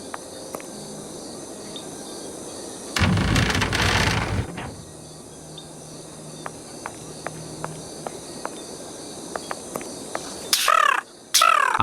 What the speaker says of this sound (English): I hear a bird, Holmes.